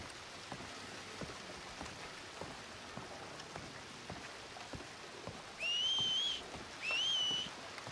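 A whistle in Red Dead Redemption 2 cuts through steady rain outdoors, two short rising whistled notes sounding near the end of the clip over the constant patter of raindrops.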